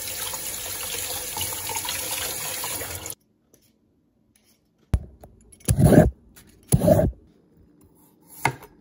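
Water runs steadily from a kitchen tap while potatoes and carrots are washed, a continuous rush that cuts off abruptly, followed by a few short splashes and clatters at the sink.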